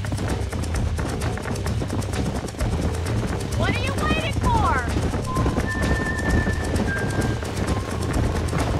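Galloping horse hooves in the Red Dead Redemption game while a horse is being caught, a rapid, steady drumming under dense game sound and someone talking over it throughout.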